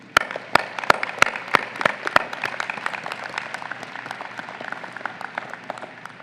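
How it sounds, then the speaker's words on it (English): Applause for graduating students at a College of Medicine commencement starts with a few loud, separate claps and builds into scattered, moderate clapping from the audience. "A big round of applause to all the graduating students"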